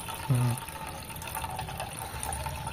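Water is strained off soaked corn kernels during homemade cornflour making, a close, continuous pouring and draining splash; a brief voiced sound comes at the start.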